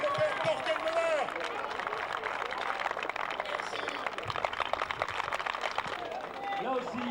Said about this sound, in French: sur vos applaudissements, encouragez-les